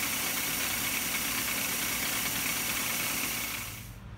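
The motor of a new belt sander/grinder runs steadily with a dense, loud whirring hum, then starts to wind down and fade near the end.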